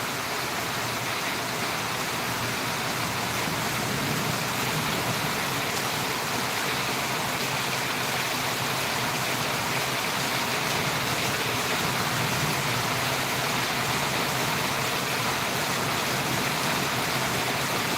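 Heavy rain pouring down in Valliyur, a steady, dense roaring hiss that stays constant and fairly loud with no pauses or voices.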